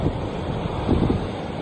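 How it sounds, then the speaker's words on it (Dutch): Steady broad rush of ocean surf rolling far below a Scottish castle cliff, mixed with gusting wind noise across the microphone, no voices. "Daar ver beneden de golven."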